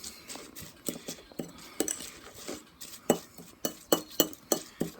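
A utensil stirs krill in a frying pan with a little oil, giving close, rhythmic metallic clinks and scrapes that quicken toward the end, with no talking.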